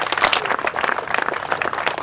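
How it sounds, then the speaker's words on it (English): A crowd at a Ted Cruz speaking event claps for families in a brief burst of dense, steady applause, close and lively. "So how about a round of applause for your families who put up with us?"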